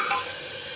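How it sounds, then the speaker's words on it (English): Spiced corn and peas pulao being stirred in a pan, a brief close burst of sizzling and scraping that settles into a steady soft hiss. "Now I'll stir this."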